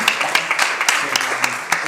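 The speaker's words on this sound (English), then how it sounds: "So a big applause to Vote France." An audience claps at a Volt Belgium political party general assembly in a short burst of applause, with a voice speaking over the crisp, uneven claps.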